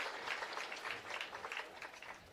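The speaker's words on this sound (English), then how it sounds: "With a nice round of applause" Faint, steady crowd applause rolls through the stands at a high school football game between Paint Valley and Blanchester, a distant wash of many hands clapping for a converted fake punt, with no voices over it.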